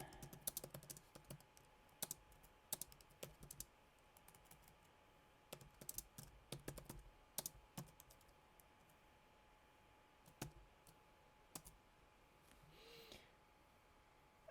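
Bursts of computer keyboard typing as a chat message is written: quiet, close clacks in uneven clusters with pauses between, then a soft breath near the end.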